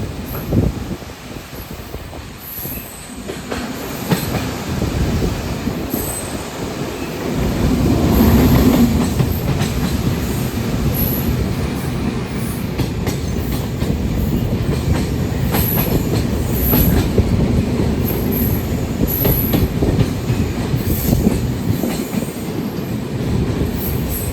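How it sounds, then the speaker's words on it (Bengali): Padatik Express passenger train rolling across the Farakka Dam, a steady loud rumble of wheels on rails with rhythmic clatter and occasional squeal, continuous throughout with no talk. "আমাদের ট্রেন ক্রস করছে ফারাক্কা ড্যাম।"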